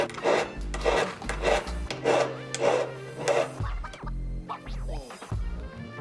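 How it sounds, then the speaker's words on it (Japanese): Coarse file worked in one direction across the back of a silver flower petal for a pin brooch, giving a matte finish: close, rhythmic rasping strokes in an even series, then irregular scraping and squeaks. "内側の花びらの背面部分は粗いヤスリを一定方向にかけてマットな質感にしておきます"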